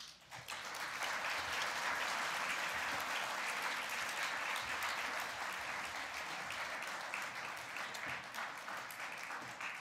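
A seated audience at a book reading and author conversation breaks into sustained applause, a dense, even wash of many hands clapping that holds steady for the full stretch without voices on top.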